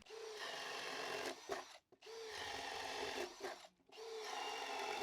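Power drill boring into wood with a Bosch Daredevil paddle bit, a steady whirring grind in two long passes, each ending in a short pause, faint and close.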